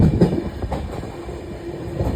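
Low, continuous rumble of a train rolling along the tracks in India, close by and steady, with no voices.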